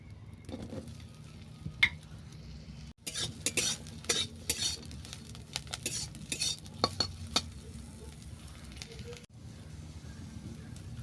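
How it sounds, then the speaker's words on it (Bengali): Soaked soya chunks fry in oil in a wok, with a low sizzle under frequent metal spatula scrapes and clinks as they are stirred, close and fairly quiet. "প্রথমে কোনাতে তেল দিয়ে আমি সয়াবিনটাকে ভেজে নেব"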